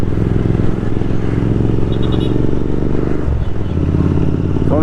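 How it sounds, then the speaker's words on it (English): Royal Enfield Continental GT motorcycle fitted with a loud Thrive aftermarket exhaust, riding through city streets: a steady, deep, throbbing engine rumble with a brief throttle shift partway, loud and close throughout. "Sounds like a Harley from far, but then when you come close, yeah, it's a Royal Enfield."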